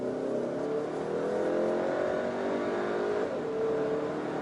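A Volkswagen Tiguan facelift pulls away in drive, its engine note rising steadily as it accelerates, heard from inside the cabin as a continuous hum with climbing tones and no talking.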